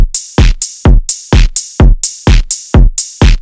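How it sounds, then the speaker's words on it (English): A phonk beat loops kick, snare, closed hi-hat and open hat together in a loud, punchy pattern, with booming low kicks and sizzling hats repeating steadily, no voices. "How it sounds combined kick, snare, hi-hat and open hat together."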